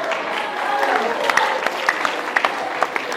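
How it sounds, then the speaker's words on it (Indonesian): Audience at a church youth camp in Maybrat applauds with scattered, moderately loud claps rising from a murmuring crowd, a few sharp claps standing out near the end. "Tepuk tangan untuk kamu semua."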